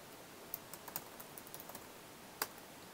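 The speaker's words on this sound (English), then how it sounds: "this time we are going to type a URL which will point to our third VROPS node" A URL typed on a computer keyboard into a browser tab: faint, sparse, irregular keystrokes over a quiet room, with one firmer tap near the end.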